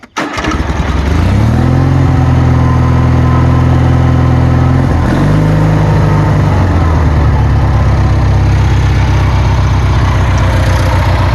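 Loud engine of a treadmill-powered stump grinder running steadily under throttle, a deep droning hum that steps down in pitch midway and settles into a steady idle-like rumble, close and continuous.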